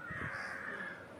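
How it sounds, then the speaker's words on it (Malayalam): A flock of crows standing around water where they bathe keeps up a raucous, overlapping cawing, fairly faint and steady throughout. "വെള്ളത്തിന് ചുറ്റുമാണ് കാക്കകൾ നിൽക്കുന്നത്"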